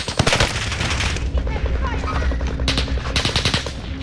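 Rapid automatic gunfire in a battle royale video game on Rebirth Island, loud bursts of shots fired in quick succession, with short pauses and a few heavier booming reports mixed in.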